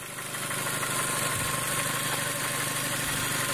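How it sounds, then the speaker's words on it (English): A Dodge Neon with a 2.0-litre 16-valve engine idles in a steady, even drone, close and loud, with a constant rough hum and a light rattle and no voices over it. "Typical sounding Dodge Neon"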